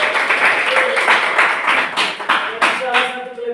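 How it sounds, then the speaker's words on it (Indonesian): A school class applauds, a dense burst of handclaps that thins into a few separate, louder claps toward the end. "Tepuk tangan untuk kelas"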